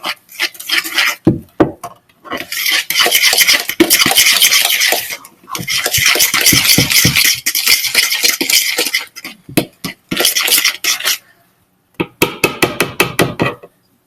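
A fork scrapes and stirs margarine chunks into dry baking ingredients in a bowl, giving repeated gritty strokes in bursts separated by short pauses, close and loud with no talking.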